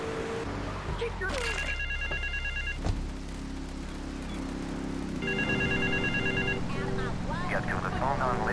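A payphone in Grand Theft Auto III's West Belleville Park rings in two trilling bursts over steady traffic hum and a low drone, with brief voice-like sounds near the end.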